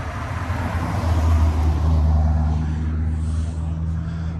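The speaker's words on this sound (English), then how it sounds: "earlier today I featured the Callaway Corvette twin turbo V8, and here it comes right now" A Callaway Corvette with a twin turbo V8 rumbles past at a Cars & Coffee gathering, a steady low engine drone that swells, then eases away as it passes.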